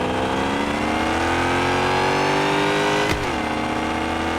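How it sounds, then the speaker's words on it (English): In the Car Parking Multiplayer 2 video game, a semi-truck fitted with a Hellcat engine revs steadily and loudly, its pitch climbing before a sharp pop and a brief dip near the end, with no talking. "But it definitely got power to it with the Hellcat engine. It's spitting."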